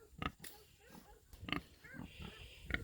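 Several short grunting oinks from pigs in a farm pen, scattered close-up snorts and grunts spaced irregularly, fairly quiet with no talking.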